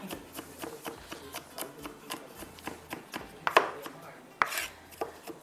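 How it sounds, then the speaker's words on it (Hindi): Fresh garlic being chopped with a knife on a board, a quick series of sharp, close taps at an uneven rhythm, with a couple of louder knocks near the end. "फ्रेश गार्लिक, जिसको मैं यहाँ पर चॉप कर रही थी"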